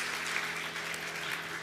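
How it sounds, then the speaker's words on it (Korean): A church congregation applauds during a Sunday worship service, a steady dense wash of clapping that holds at an even level throughout, with faint electrical hum underneath. "우리 한번 축복의 박수 한번 담아드리겠습니다"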